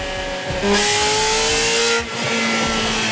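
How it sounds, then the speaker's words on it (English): A 1995 Ferrari F355 Berlinetta engine revs hard in one sustained burst, its pitch climbing, then drops back to a lower idle growl. "These cars like to be revved up."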